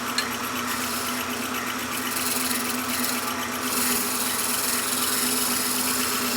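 A Shopsmith wood lathe turns a wooden mushroom while a gentle chisel takes very light cuts from the surface, a steady loud motor whine with a faint continuous scraping hiss layered on top.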